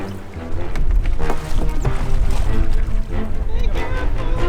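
Continuous loud sloshing and slapping of water against a small sailing boat, choppy and close, with wind noise throughout.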